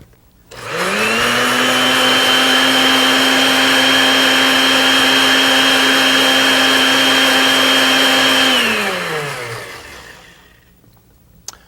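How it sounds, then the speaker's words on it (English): A kitchen blender whirs steadily as it purees ginger with water for an Indian dish, a loud close motor drone that starts abruptly, holds for about eight seconds, then winds down and stops. "we're going to blend it up some more."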